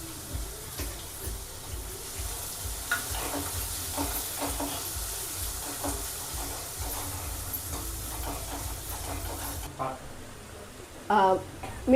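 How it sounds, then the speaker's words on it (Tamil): Onions for a Tamil fish curry sizzle and hiss steadily in a hot pan, a continuous close frying sound under a person talking, with a few brief clinks near the end. "வெங்காயம், இதெல்லாம் நல்லா பொன்னிறமாகிற வரைக்கும் வதக்கிக்கலாம்."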